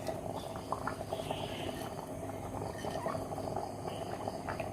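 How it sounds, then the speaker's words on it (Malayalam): A pot of water at a boil with two cups of half-hour-soaked rice stirred in for Buhari rice, giving a steady, close bubbling and churning with faint clinks, continuous throughout. "ഇനി ഇതിലേക്ക് ഇപ്പോൾ തിളയ്ക്കാൻ തുടങ്ങിയിട്ടുണ്ട്."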